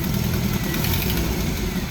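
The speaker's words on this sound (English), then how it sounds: "when you rev up the engine, which is probably why we're misfiring off of idle so bad" A Jeep engine idles unstably and misfires, giving a steady, close, fairly loud rough running sound with slight unevenness and no voices over it.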